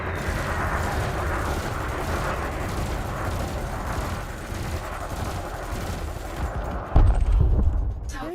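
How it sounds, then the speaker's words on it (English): Multi-cannon fire aimed at an unshielded drone in the space game Elite Dangerous, a dense, continuous rumbling barrage that swells into a louder, heavier burst near the end, with no talk over it. "Bring the craft into your sights and open fire."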